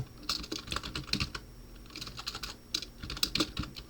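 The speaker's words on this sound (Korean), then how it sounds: "타이핑이 잘 안 되네요" Rapid, uneven clacking of keys on a computer keyboard continues steadily for several seconds, close and clear with no voices.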